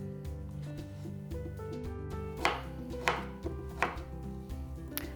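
A knife chops pears into inch-sized cubes on a cutting board, several distinct close thuds at an uneven pace over a background hum.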